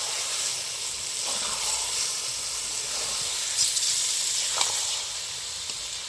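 Fried eggs and potatoes sizzle steadily in a biryani pot, a close, continuous hiss with a few brief clinks and stirring touches partway through, and no talking.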